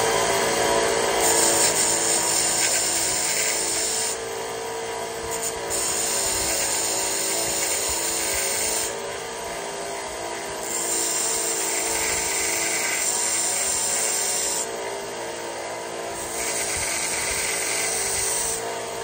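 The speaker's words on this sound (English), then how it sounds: "Sharpen this thing up again." A flintknapping tool for working Tallahatta quartzite is sharpened with steady abrasive rubbing and grinding, loud and close, coming in long even strokes with brief pauses between them.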